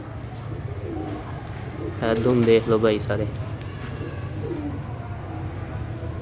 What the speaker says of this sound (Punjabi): ਇਹ ਸੋਹਣੇ ਚੀਨੇ ਕਬੂਤਰ ਨੇ